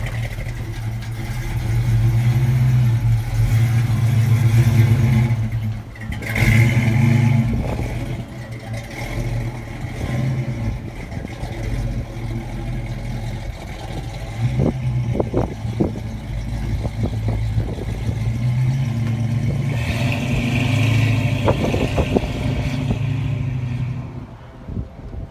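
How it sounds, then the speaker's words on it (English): A white and blue Ford Mustang coupe's engine runs steadily, then revs and pulls away on a drive, a continuous close rumble with brief surges and a few clattery knocks, no talking. "Right, we're going to take this car for a spin"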